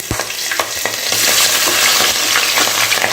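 Green chillies, cinnamon, fennel and onions fry in hot oil for biryani, giving a continuous loud sizzle with rhythmic scraping and clinking as a spoon stirs the pan, with no voices.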